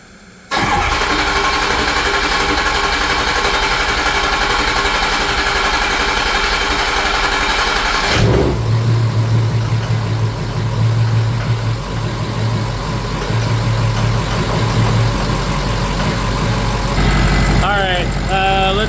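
A Ford 6.0 Powerstroke diesel engine that had a no-start problem and a broken O-ring cranks briefly, then fires up and settles into a loud, steady clattering idle that runs to the end.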